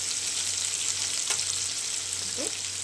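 Steady sizzling of onions sautéing in a pan, a continuous hiss with a low hum beneath and no talking.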